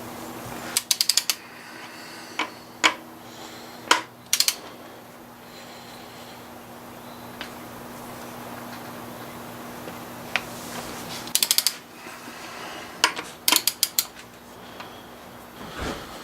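A ratchet loosens bolts during the rebuild of a 2004 BMW 325xi engine, making several short bursts of quick clicking with single knocks of the tool in between, close over a low steady hum, with no talking.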